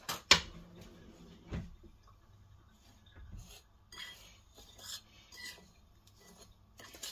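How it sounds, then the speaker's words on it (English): Digestive biscuit crumbs and melted butter being mixed in a bowl, with a few faint scrapes, soft clinks of a utensil against the dish and quiet rubbing sounds. "now we are just going to mix together the digestive biscuits and the melted butter"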